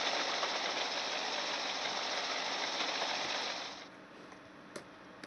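A diesel engine drones steadily from a Class 03 shunter locomotive in Train Simulator 2018 on the Doncaster route, then drops to a quieter idle near the end, with a few faint clicks.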